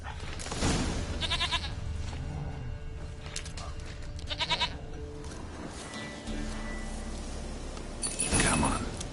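A goat bleats repeatedly in a fantasy role-playing game, several loud nasal cries spaced across the scene over ambient outdoor game sound, with brief speech between calls.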